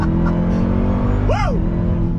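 A 2021 Dodge Durango Hellcat performance SUV with a 710-horsepower supercharged engine accelerates hard, a loud steady engine roar with a rising and falling supercharger whine over it, close and without speech.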